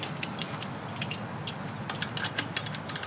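A ratchet wrench tightening a bolt on the lower unit of a 1975 Evinrude 40 HP outboard gives quick, close metallic clicks in short bursts over a steady background hiss.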